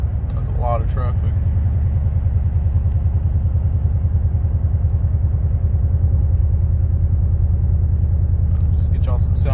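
Ram 1500 pickup fitted with Doug Thorley 1 3/4-inch catless headers, heard while driving in traffic: a steady, loud, deep exhaust rumble droning throughout, with a voice speaking briefly at the start and end.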